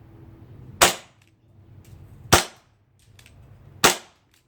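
A gas-powered BB gun fires three sharp, loud cracks spaced about one and a half seconds apart, each followed by a brief decay into near silence.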